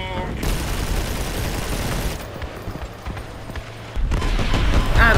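Missiles striking and gunfire erupt in a vehicle battle in the online game Crossout, a dense rumble of blasts and shots that eases midway, then swells loud again, with a voice talking over it.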